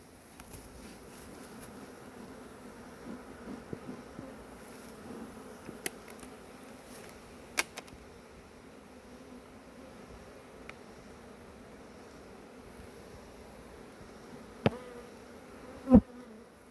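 Honey bees buzzing around an open hive during beekeeping outdoors, a faint continuous drone with individual bees passing close now and then and a few sharp brief knocks.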